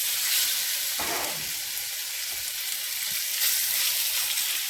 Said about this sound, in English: You always want the sexy sizzle.